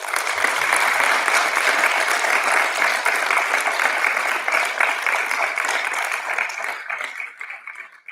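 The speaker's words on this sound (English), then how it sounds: "So let's give them the first big round of applause for the evening." An audience at a university racing team's UH27 car launch gives a big round of applause: dense, steady clapping that holds for several seconds, then thins out and fades near the end.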